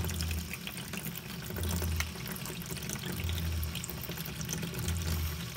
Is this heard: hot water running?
yes